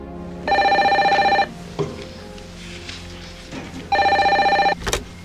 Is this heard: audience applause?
no